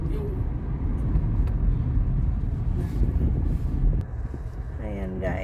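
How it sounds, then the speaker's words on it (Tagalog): Slow Sunday traffic near construction in Laval, heard from inside a car: a steady low rumble with wind noise and a voice talking over it. "traffic na naman kami kahit Sunday"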